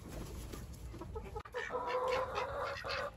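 Chickens in a coop cluck and murmur close by, with a run of short bright clucks and warbling calls over a low background rustle.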